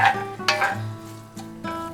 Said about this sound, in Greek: Θα το τσιγαρίσω, το κιμά, το κρεμμύδι.